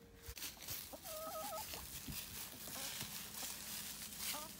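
Several chickens cluck and murmur softly outdoors in a yard, with scattered short calls over a steady low background.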